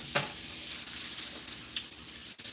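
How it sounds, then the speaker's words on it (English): Butter sizzles steadily in a very hot pan, a close, continuous hiss and crackle with a few sharper pops and a brief scrape near the end. "Trying to get that butter all melted down."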